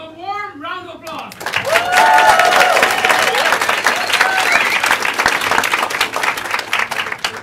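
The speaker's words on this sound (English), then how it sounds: "Give him a warm round of applause" A brief spoken introduction gives way to a warm burst of audience applause for a performer, loud clapping with a few cheers and voices that swells quickly and stays strong before easing slightly.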